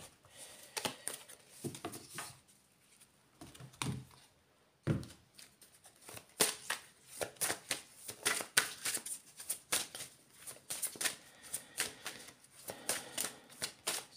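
Eye of the Lotus oracle cards are shuffled by hand in a run of crisp, close riffling bursts with brief pauses, and no voice is heard.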